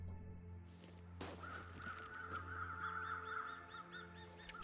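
Crows caw repeatedly in the misty, cold winter landscape of the survival game The Long Dark, a run of harsh calls carried over a steady low ambient hum.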